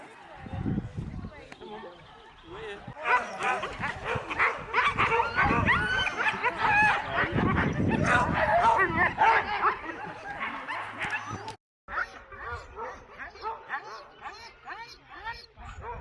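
A dog barks, yips and whimpers in rapid repeated bursts, fairly close and loud, with people talking over it.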